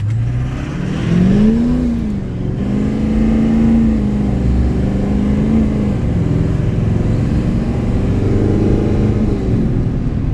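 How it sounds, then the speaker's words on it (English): LBZ Duramax diesel truck with a new Banks triple disk torque converter accelerating hard from 0 to 60, loud steady engine drone rising in pitch through gear changes with a dip where traction control cuts power after tire spin. "That was the truck cutting back on its own when it spun the tires."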